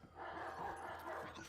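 Dogs in the video game Watch Dogs 2 give faint, continuous barking and yipping that blends into the game's background sound.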